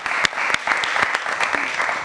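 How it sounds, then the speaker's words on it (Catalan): Lively applause from a studio audience on a Catalan spelling quiz show, dense clapping with a few sharp louder claps standing out, close and sustained throughout. "Un fort aplaudiment per la Caral"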